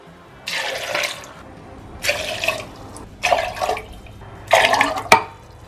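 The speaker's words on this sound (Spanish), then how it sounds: "Y ahora le voy a agregar mis 4 tazas de agua." Water is poured into a container of soaked, drained almonds in a home kitchen while making almond milk: four separate bursts of splashing liquid with short pauses between, close and moderately loud, with no talking.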